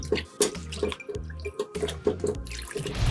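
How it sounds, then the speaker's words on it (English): Vegetables being rinsed in a bowl of water with vinegar in a kitchen, repeated rhythmic sloshing and splashing with drips and trickles, close and fairly quiet, without speech. "So I rinsed this a total of 4 times to make sure everything is really clean."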